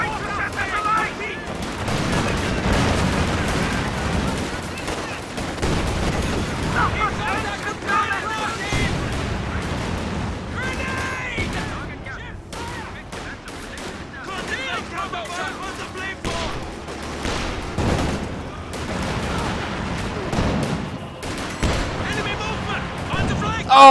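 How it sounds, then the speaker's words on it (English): Pack howitzer artillery and assorted weapon fire in a wartime strategy video game, repeated booming blasts and crackling shots over a steady battle din, with a voice commenting over it. "that pack howitzer is just gotta be frustrating"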